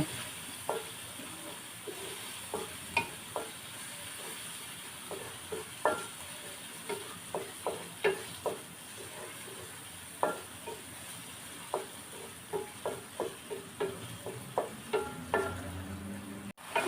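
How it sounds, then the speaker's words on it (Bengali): Leftover chicken with cumin and spices being stirred in a frying pan, a soft steady sizzle under repeated scraping stirs of the spoon, close and fairly quiet. "এগুলো একটু নাড়াচাড়া দিয়ে নিচ্ছে"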